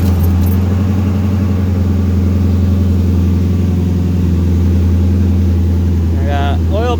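A turbocharged LS1 V8 runs steadily at idle with a low, even rumble that stays loud and constant throughout, and a faint higher whine or squeal creeps in near the end.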